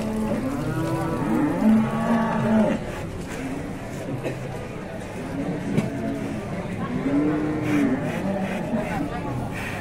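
Cattle at a livestock market lowing in long, drawn-out moos, two or three calls close by, over steady crowd murmur and passing engine noise, with people talking.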